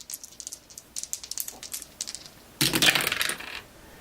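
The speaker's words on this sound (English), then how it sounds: "this group is going to attack here with another 2 dice" Dice rattle and clatter in the Star Wars: Battle of Hoth board game: a run of small rapid clicks is followed by a louder, denser tumble of several dice, heard close with no talking.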